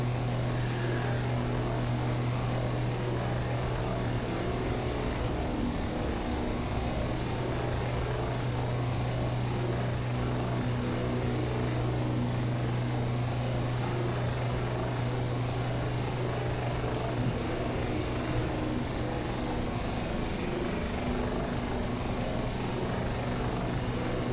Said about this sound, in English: Definitely an overloaded aircraft.